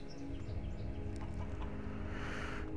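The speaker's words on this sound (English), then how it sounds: "Shut up, chicken!" A chicken clucks in the video game Risen, soft short clucks mixed into a steady hum of background game ambience and music.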